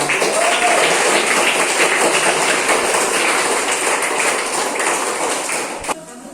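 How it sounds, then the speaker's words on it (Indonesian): A primary school class claps hands together in a classroom, a loud continuous clatter of many small hands that fades slightly near the end and stops with one sharp tap. "Jadi Pak Guru sekarang kasih tepuk tangan untuk semuanya ya"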